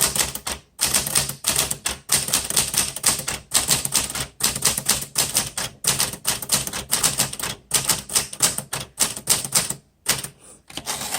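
Typing on a 1960s Smith Corona Galaxie manual typewriter, a steady run of crisp key strikes with brief pauses between bursts, close and loud, with no talking.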